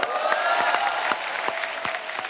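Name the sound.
audience applause and whistles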